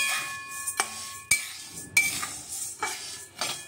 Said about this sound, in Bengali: গ্যাসে কড়াই বসিয়ে কড়াইটা গরম করে মুগ ডালটা ভেজে নিচ্ছি।